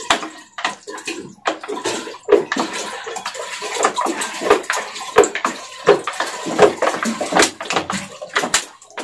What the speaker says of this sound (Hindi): और अभी इसमें मैं दूध डालूंगी, दूध मैंने 2 किलो लिया है इसको डालूंगी।